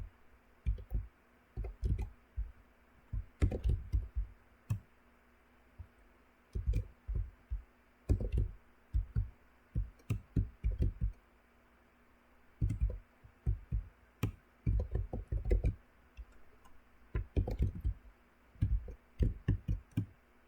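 Sharp, dry clicks from a weeping angel enemy in a video game arrive in short irregular bursts, with scattered single clicks in between, over a quiet background.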